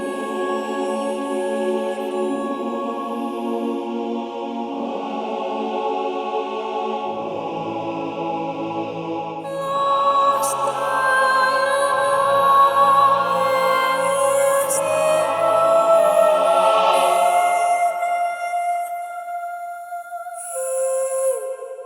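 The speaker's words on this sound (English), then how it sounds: "in the vocals, we're starting off with the men's choir and just key switching between some vowels" Orchestral choir vocals: a men's choir sustaining and shifting between vowels with solo words, joined by a women's choir, in a layered, swelling chord texture that grows fuller and brighter partway through, with no talking.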